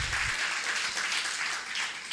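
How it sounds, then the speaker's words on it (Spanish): A church congregation claps steadily in a dense, even wash of applause for about two seconds, with no voices standing out. "Dele un aplauso al Señor por esas cosas que Él hace."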